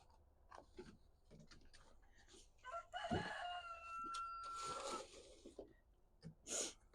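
Roosters crow in a forest garden setting, one long clear crow rising and holding near the middle, with scattered clucks and fowl noises before and after, fairly close and moderately loud.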